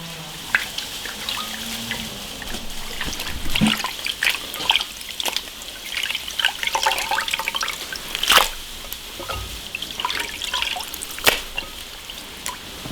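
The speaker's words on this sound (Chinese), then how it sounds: "鱼干鱼泡，先给它洗一下。" Dried fish and fish maw are rinsed under running water in a sink, with a steady splashing tap flow, drips and occasional louder splashes and knocks as the pieces are handled, close up and without talk.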